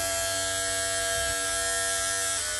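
A Braun Silk-épil 9 Flex epilator running, a steady close electric buzz with a constant motor whine that holds for the whole stretch.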